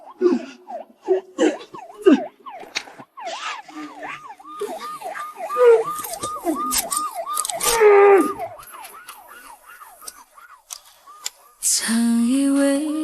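An ambulance siren wails in a fast, repeating rise-and-fall pattern, fairly loud, mixed with clatter and voices, ending in a steady horn-like tone.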